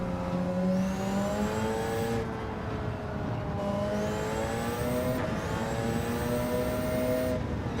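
A Porsche GT3 race car in a racing game at Spa accelerates hard, its engine rising in pitch through three gear changes with brief dips between the shifts. The sound stays loud and close throughout.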